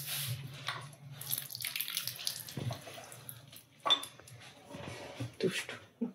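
Raisins being rinsed under a running kitchen tap, with faint splashing water and light clinks of a bowl or dishes, quiet and intermittent in close range.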